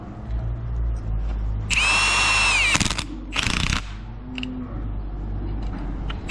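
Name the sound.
Milwaukee power tool tightening a fitting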